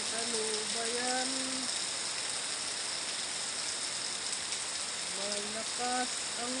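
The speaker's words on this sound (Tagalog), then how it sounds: "Malakas ang ulan sa paligid." Steady hiss of heavy rain pouring continuously around a flooding house, with a faint voice singing or humming briefly at the start and near the end.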